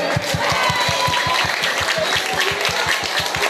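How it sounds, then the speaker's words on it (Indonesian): An audience at a school language-month event and library inauguration applauds Pak Amir, steady loud clapping filling the room with a regular low thumping rhythm running underneath throughout. "Tepuk tangan untuk Pak Amir"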